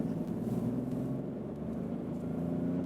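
Vauxhall Opel Astra K from 2016 accelerating hard in second gear on a motorway, a steady low engine drone with road and wind noise filling the cabin, continuous and moderately loud without a break.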